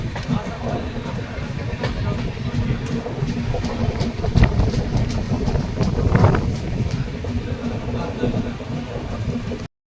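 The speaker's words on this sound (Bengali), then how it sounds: "আমাদের ট্রেন ছেড়ে দিয়েছে এখন" A passenger train rolls along just after leaving a station, a steady rumbling drone with faint rhythmic clatter and occasional knocks, continuous throughout with no talking.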